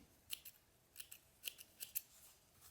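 Scissors trim sheepskin shearling in a string of quiet, crisp snips, some in quick pairs, heard close and alone against a faint background hiss.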